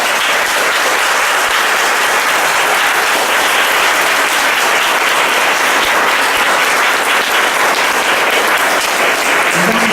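A church congregation claps in loud, sustained applause to welcome a statue of Our Lady of Graces, a dense and even wash of hands that lasts throughout.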